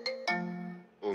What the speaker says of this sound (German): Mein Telefon, einen Moment bitte.